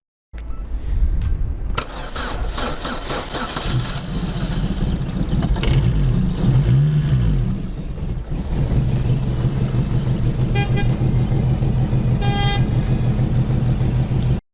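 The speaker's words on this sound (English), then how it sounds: "Well, I added the starter and we'll try to start the engine." A car engine in cold weather cranks on a 4S LiPo jump starter, catches quickly and settles into a steady, close idle that runs loud to the end.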